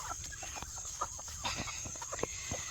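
Chickens cluck softly in short scattered bursts around a steady background hum, close by and fairly quiet, on an off-grid homestead.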